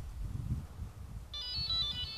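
A rugged phone that has been run over twice by a Land Rover starts ringing partway through, a repeating electronic ringtone melody over low background rumble and handling noise.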